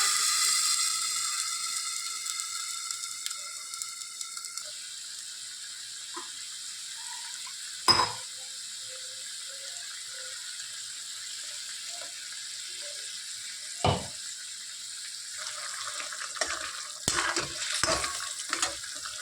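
Masala spices frying in a pan of gravy over a low flame, giving a soft, steady hiss and sizzle with a few sharp clatters of utensils now and then.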